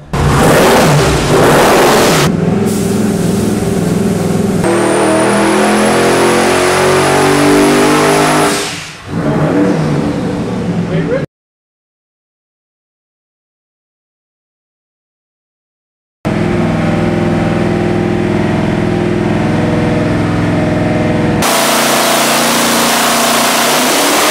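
An all-aluminum 572 cubic inch twin-turbo Chrysler Hemi race engine revs loudly and continuously, cuts to silence for several seconds, then roars again with steady high-power output.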